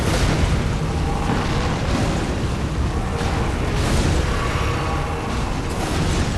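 Heavy explosions from Radahn's rock projectiles in the video game Elden Ring form a dense, loud, continuous barrage of booming impacts with no clear gaps between them.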